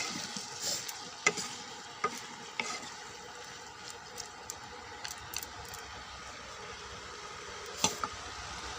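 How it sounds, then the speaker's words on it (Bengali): Potato and pointed gourd curry, with a splash of water added, cooks in a pan with spices, giving a soft steady sizzle broken by scattered stirring scrapes and taps close by. "সামান্য একটু জল দিয়ে দিলাম, যাতে আলু পটলের সাথে মশলা আর একটু কষানো যায়।"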